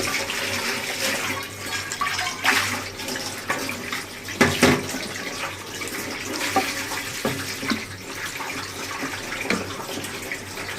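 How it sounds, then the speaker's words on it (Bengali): Broth is poured into a simmering curry of tengra fish and eggplant, giving a steady, close splashing pour that lasts several seconds with no voices. "ঝোল দিয়ে দিচ্ছি।"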